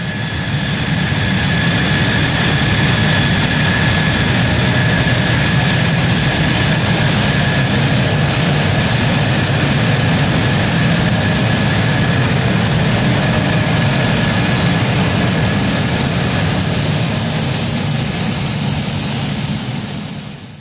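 F-16 Block 50 fighter jet engine running steadily, a loud continuous roar with a high whine layered over a broad low rumble, unbroken and close for the whole stretch.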